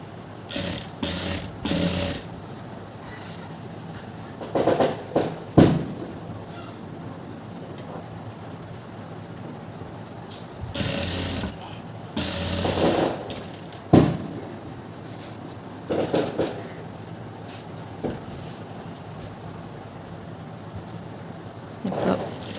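A sewing machine stitches elastic onto a pair of pants, running in several short bursts with pauses between them, close and moderately loud, with a faint background hum.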